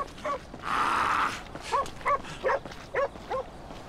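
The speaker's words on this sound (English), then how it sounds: "Man, that's a cool-ass dog you got, homie." A dog in the video game GTA V gives a run of short barks and yips, about six evenly spaced, after a brief steady burst of noise, with no talk over them.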